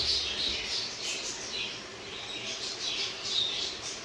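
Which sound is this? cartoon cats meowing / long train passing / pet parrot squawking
pet parrot squawking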